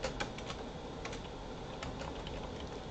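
Fingers tap on a computer keyboard in quick, uneven bursts of crisp clicks, close and clear over faint room hum, with no speech.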